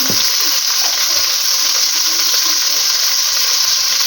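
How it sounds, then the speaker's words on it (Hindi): Tomato and whole spices such as star anise, black cardamom and dried chili fry in a pan for chicken biryani, giving a loud, steady, close sizzle with occasional stirring scrapes and no pauses. "इसको हम अच्छे से इसके अंदर फ्राई करेंगे।"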